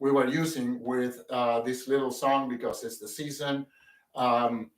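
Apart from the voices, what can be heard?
No distinct noise like a dog, phone or traffic.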